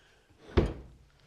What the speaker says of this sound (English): Just open and shut those drawers.